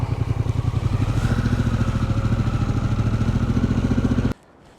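Harley-Davidson Pan America motorcycle engine running steadily nearby with a throbbing low pulse, then cutting off abruptly near the end into quiet.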